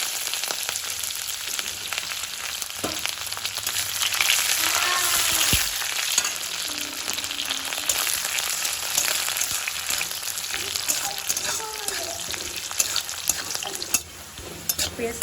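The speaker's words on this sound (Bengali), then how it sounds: "পেঁয়াজটা ভাজা ভাজা হয়ে গেছে" Chopped onions fry in hot oil in a kadai with bay leaf, cumin and whole dried red chillies, giving a continuous close sizzle broken by the scrape and clatter of stirring.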